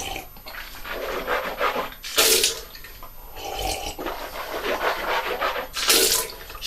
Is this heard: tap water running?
yes